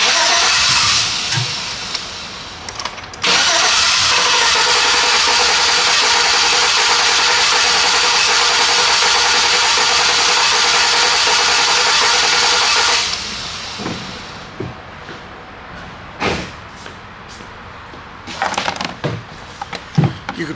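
A GMC Sierra with a 5.3L V8 and a broken valve spring cranks over with the fuel pump relay pulled, a loud sustained starter churn lasting about ten seconds, then stopping, with scattered clunks afterward.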